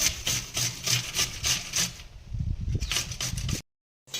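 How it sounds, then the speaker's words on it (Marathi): Carrots are grated by hand for carrot halwa in a home kitchen, with quick, rhythmic rasping strokes, about three per second, close and fairly loud, then an abrupt stop. "बघा मस्तपैकी अशा प्रकारे सगळं खिसून घेतलंय बरं का प्रज्ञेने"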